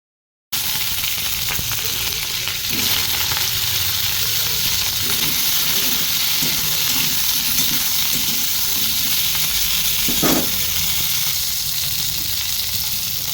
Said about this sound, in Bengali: ফুলকপি কেটে রেখেছিলাম ধুয়ে নিয়েছি গরম জলে এবার দিয়ে দেবো